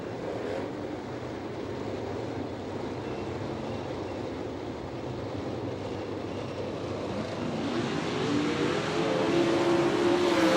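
World of Outlaws sprint cars race on a dirt oval at Hartford, Ohio, a dense roar of engines from a distance that swells louder toward the end as the pack comes by on the green.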